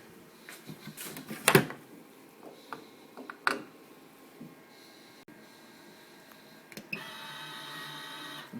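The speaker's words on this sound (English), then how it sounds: "We set the lens upon the required axis using a blocker and then turn it over, block the lens up." Lens blocker machine in an eyewear glazing workshop, a quiet room filled with sparse clicks, taps and small mechanical knocks, then a steady high mechanical whir starting near the end.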